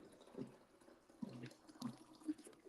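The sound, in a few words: filling a water bottle from a tap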